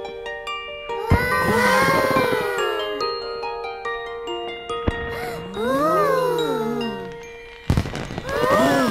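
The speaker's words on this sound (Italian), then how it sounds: "I fuochi!" Cartoon fireworks in an Italian-dubbed Bing episode: sliding whistles and bright pops ring out over a sustained musical tone, with squealing rising glides and a final burst near the end.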